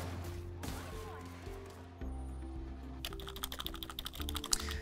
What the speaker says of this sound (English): I'm going to take this opportunity to mash the Shift key to trigger the Sticky Keys configuration menu